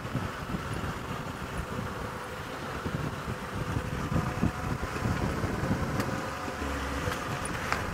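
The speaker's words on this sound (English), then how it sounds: "that hot wind from the northwest continues to blow" Hot northwest wind blowing across an African bush landscape during a sunset safari drive, a steady broadband rush buffeting the microphone, mixed with a low vehicle engine and faint insect buzz, no talking.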